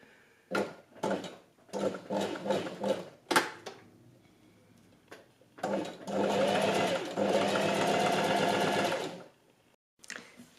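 A sewing machine fitted with stretch needles runs straight-stitch side and crotch seams on underwear, first in short stop-start bursts, then in one long steady run of rapid stitching, close and clear with no talk.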